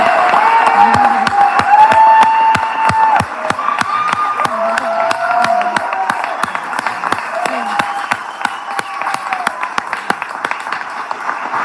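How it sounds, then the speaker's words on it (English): A crowd at a live event with the governor applauds and cheers. Sharp individual claps ring out close by while voices shout and cheer underneath, and the ovation tapers gradually toward the end. "Give him a round of applause"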